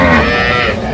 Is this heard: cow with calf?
yes